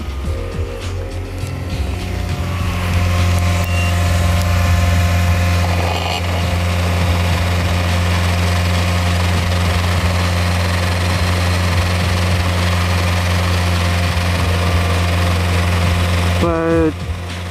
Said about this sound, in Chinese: 现在我们让它的发动机达到2500转，踩发动机，让它恒定在2500转这个转速